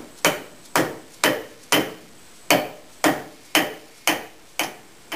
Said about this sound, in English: I'm going to use a dead blow mallet to bring this on home.